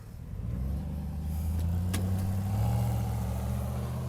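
The 6.2-liter V8 of a 2010 GMC Yukon Denali runs with a steady low rumble that builds slightly in a mild rev. It sounds close, with a brief click partway through.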